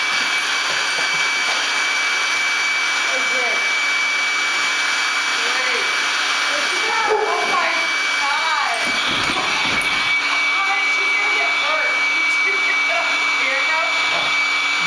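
An electric pump inflates an air mattress with a steady, loud whirring hum that runs the whole time, while a dog shuffles nearby and voices talk faintly underneath.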